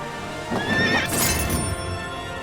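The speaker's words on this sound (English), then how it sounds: "I'm on a horse, and it just neighed." A horse in the fighting game Soulcalibur VI lets out a single loud, close whinny that rises and falls over about a second, with faint hoof clip-clop and steady game background around it.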